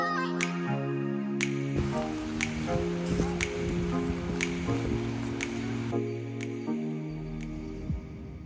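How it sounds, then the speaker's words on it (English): Rain drips at the beach in Katwijk, the Netherlands, on a heavy, wet day, with sharp, irregular drops tapping repeatedly over a steady layer of sound and no talking. "it's raining so badly"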